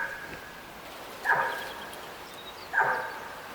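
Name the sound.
elk barking in a hunting video game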